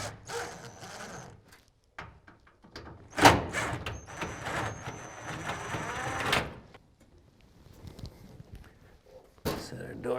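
A Speed Queen top-load dryer door comes off its hinges with clunks, rattles and one sharp thump, then a quieter stretch and a final knock near the end.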